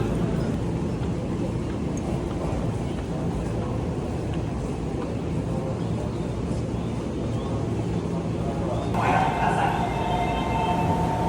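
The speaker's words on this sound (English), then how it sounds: "we finally made it to Shinjuku Station" Inside Shinjuku Station in Tokyo, a low continuous rumble of trains and a busy crowd fills the space, with murmuring voices throughout and a brighter clatter of sounds rising near the end.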